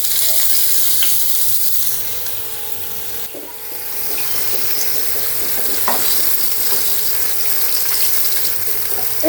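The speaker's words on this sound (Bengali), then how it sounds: "এখন আমি এই ফুলকপিগুলো এখানে ভেজে নেব" Cauliflower florets fry in hot oil for a Bengali cauliflower korma, a continuous loud sizzle with occasional stirring scrapes and a brief dip partway through.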